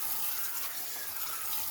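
Spring water pours steadily over pickled greens being rinsed, a continuous close splashing rush with no voices.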